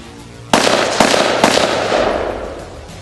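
A carbine fires at an outdoor shooting range: three loud, sharp reports about half a second apart, each followed by a long rolling echo that fades out, with no talking.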